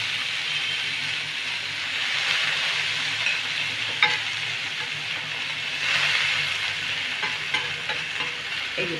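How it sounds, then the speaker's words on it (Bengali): Boiled peas dry-fry on a tawa without oil, giving a steady hissing sizzle broken by a few scraping stirs. No one speaks. "সিদ্ধ করা যে মটরটা ছিল ওই মটরটা আমি তাওয়াতে দিচ্ছি"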